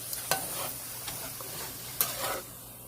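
Crushed coconut powder being stirred and mixed in a bowl for a homemade coconut chocolate milk bar, with a few soft scraping strokes and light taps close by, no talking.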